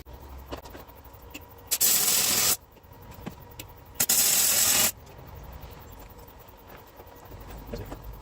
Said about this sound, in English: So let's chuck a couple of tacks there and there.